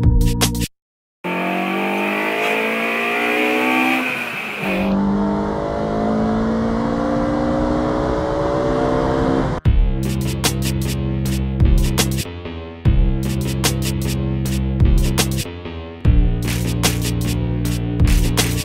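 A BMW M3 engine on a race track rises through loud revs as gears climb, then settles into a steady high-pitched drone with repeated sharp gear-change interruptions, close and powerful.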